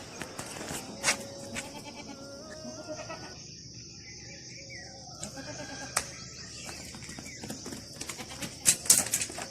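A goat let out of its pen bleats several times in short wavering calls amid a farmyard, with birds chirping in the background and brief human voices faint underneath.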